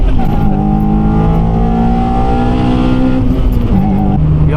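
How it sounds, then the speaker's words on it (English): A Honda Civic Type R EP3 engine revs hard with VTEC engaged, a loud close-up sustained high-pitched scream that holds steady, then drops briefly before rising again near the end. "VTEC screaming."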